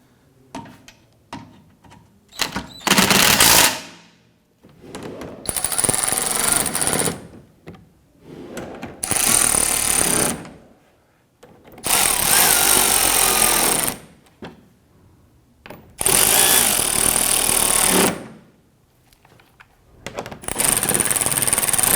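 A power tool tightening bolts on a 2012–2017 Toyota Camry during fog light bezel work, six or so loud whirring bursts of a few seconds each, separated by pauses, close up and alone.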